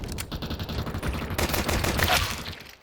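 Gunfire in a shooter video game, a rapid burst of shots that swells into a dense volley near the end, fairly faint, with almost no talk over it.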